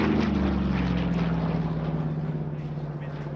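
A Yak-3 UTI two-seat trainer aircraft with a non-original engine drones at an airshow, a loud, steady propeller engine roar with its pitch sliding gradually lower as it passes.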